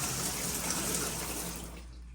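Water gushes steadily from a bathtub tap in a hotel bathroom at a Comfort Inn, a loud, even hiss close by that thins out near the end.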